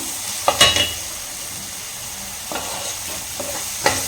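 A mixed fruit jam cooks in a pan over soft, steady sizzling, and a spoon stirs it with a few quick scraping strokes near the start and a few more later. No one speaks.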